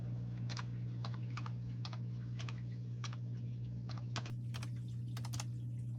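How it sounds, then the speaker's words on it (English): Someone types on a computer keyboard in a quiet room with a low steady hum, giving scattered, irregular key clicks that are close but light, with no talk. "I'm a terrible typer."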